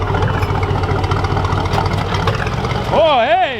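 A Ford F100 truck engine idles roughly and loudly up close while popping flames, with a steady low rumble throughout; people talk over it and a warbling tone rises near the end.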